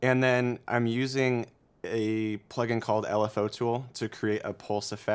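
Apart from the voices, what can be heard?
No everyday noises stand out.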